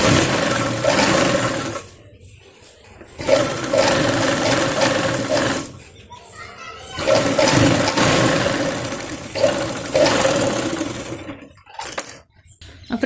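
A sewing machine stitches the border of a little girl's palazzo top in bursts, loud steady whirring runs separated by short pauses, close up with no talking.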